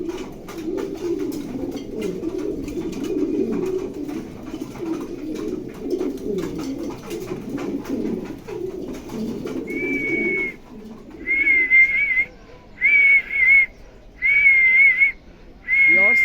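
Racing pigeons of good bloodline cooing, soft low cooing murmurs for ten seconds, then a run of five or six loud, clear whistling calls close by.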